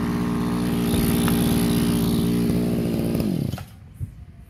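A small Japanese chainsaw engine with its muffler fitted runs at a steady, loud buzzing idle, then cuts out abruptly near the end, leaving a brief clunk and near silence.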